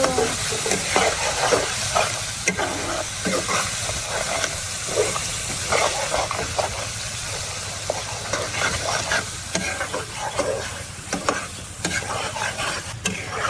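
Spice paste seasoned with salt and prawns stir-fried in a pan, a steady loud sizzle with repeated scraping strokes of a spatula throughout, no voices.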